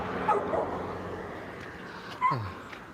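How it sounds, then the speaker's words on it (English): A dog gives a few short yips and barks outdoors near a backyard, brief bursts at the start and a stronger one near the end over steady background noise. "It's a cute dog."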